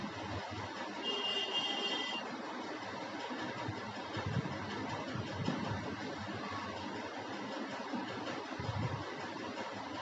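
A metal cutting machine runs at a steady mechanical hum with a brief high whine early on, amid the low rumble and clatter of a busy trade expo floor at Sign India 2024 in Delhi.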